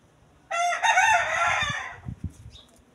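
A rooster crows once loudly and close by on a farm, followed by a few soft clucks from chickens against a quiet background.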